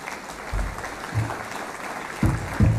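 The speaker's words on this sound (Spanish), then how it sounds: "Démosle un aplauso de bienvenida a nuestro expositor" Applause from a conference audience welcoming a speaker at an international public property management event, a steady spread of clapping with a few louder low thumps near the start and end.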